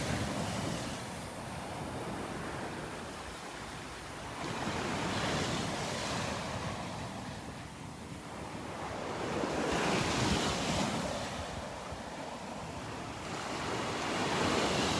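Ocean surf at Delnor-Wiggins beach with the tide coming in, waves swelling and washing ashore in slow surges under steady wind noise on the microphone, with no talking.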